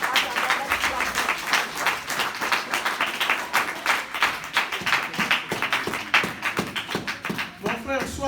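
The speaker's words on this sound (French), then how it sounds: "Let's clap." A church congregation clapping together in a steady rhythmic beat, dense and sustained throughout, with voices faintly mixed in.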